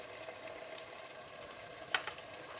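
Spices, turmeric and red chili powder, fry over high heat with minced meat and liver in a pot, a faint steady sizzle with one brief sharper crackle.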